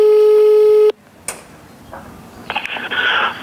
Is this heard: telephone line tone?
yes